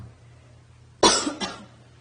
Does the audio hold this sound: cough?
yes